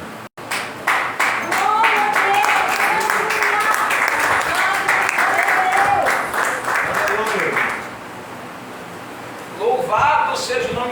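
A church congregation claps during a family prayer campaign service. The loud, crisp claps run for about seven seconds with a voice carrying over them, then fade to quiet before speech resumes at the end.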